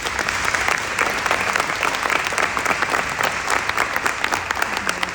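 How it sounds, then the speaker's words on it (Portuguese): A church congregation gives a round of applause for its standing leaders, loud, dense clapping from many people, even and unbroken throughout, with some crowd noise blended in. "vamos dar uma salva de palmas para esses líderes"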